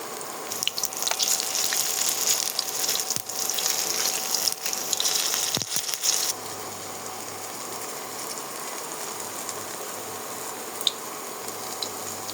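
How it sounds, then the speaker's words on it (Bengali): Pui shak (Malabar spinach) leaf fritters frying in oil on low heat, a continuous bubbling sizzle that is louder and busier at first, then settles into a softer, even hiss with an occasional pop. "বড়াটা একদম আমরা লো তাপে ভাজবো, বেশি তাপ দিব না।"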